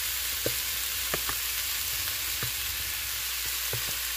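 Shrimp and seafood rice sizzle steadily in a pan, a continuous close frying hiss with a few soft clicks and stirring taps scattered throughout.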